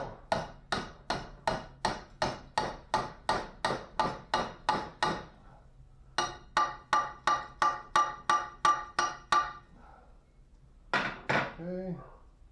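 Rapid, evenly paced framing hammer blows ring out in long runs, about two per second, then a brief pause and a final quick cluster of strikes.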